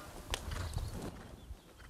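Horse walking under a rider during a riding lesson at an equestrian club, with a few soft hoof clops and low shuffling, faint and close, amid quiet arena ambience.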